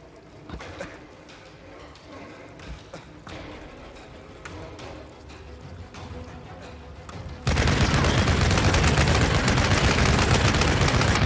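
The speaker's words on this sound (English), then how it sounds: "this is a submachine gun, I guess" Sustained automatic submachine gun fire from a Tomb Raider multiplayer match, a dense loud burst filling the last few seconds after quieter scattered game shots and effects.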